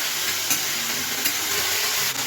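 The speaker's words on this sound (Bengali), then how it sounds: "আলুগুলো ভাজার জন্য তেলে একটু নেড়ে দিচ্ছি।" Potatoes being stirred in hot oil seasoned with black cumin seeds, giving a steady close sizzle of frying with a few soft scrapes of the spoon, no voices.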